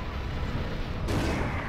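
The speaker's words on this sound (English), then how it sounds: "it gets very difficult to tell how big the explosion will be" Dense, sustained rumbling blast from the fantasy game Overlord, filling the clip at high volume with a sudden brighter surge of crackling explosion about a second in.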